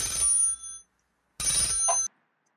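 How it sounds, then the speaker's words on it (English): A cell phone rings in two loud electronic bursts, each under a second long, separated by a brief silence, close and clear with no talk over it. "the phone rings"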